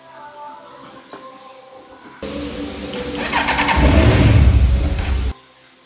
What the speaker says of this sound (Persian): رفتیم واسه روشن کردن.